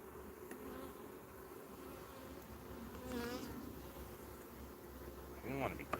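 Honeybees hum in a continuous, dense buzz from an opened beehive, close and steady, with a few louder passes of individual bees near the end and faint speech in the background.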